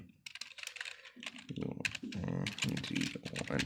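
C++ code is typed on a computer keyboard in quick, close clattering bursts, with someone speaking over part of the keystrokes.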